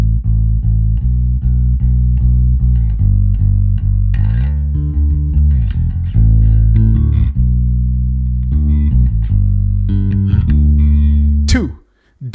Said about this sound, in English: Bass, DI box to mixer.